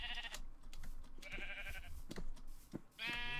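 Sheep in the Minecraft video game bleat several times, short nasal electronic baas spaced irregularly over scattered clicks and small game sounds, faint and with no talking.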